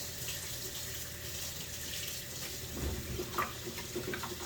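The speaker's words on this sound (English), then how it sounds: "Wash my hands real quick" Water runs steadily from a kitchen tap as hands are washed at the sink, a continuous close splashing hiss with no talking.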